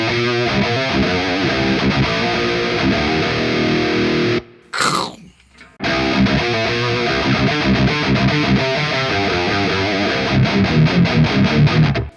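Heavily distorted electric guitar riffing through a bright cabinet impulse response with boosted highs and presence, compared against a Celestion G12T-75 speaker. The playing is loud and dense, with a brief gap near the middle, then continuous chugging.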